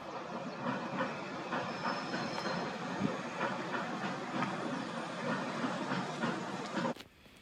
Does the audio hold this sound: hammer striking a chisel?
no